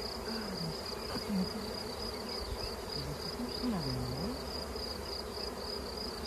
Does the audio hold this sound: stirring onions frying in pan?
no